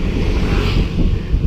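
Steady rushing wind buffeting the microphone of a cyclist out on a morning ride, a dense, loud roar with no pauses and no talk.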